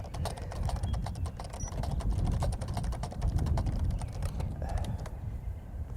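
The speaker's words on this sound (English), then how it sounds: "Just type a little bit." A Canon Typestar thermal typewriter types in a quick, uneven run of soft clicks and taps, close by, continuing without pause for several seconds.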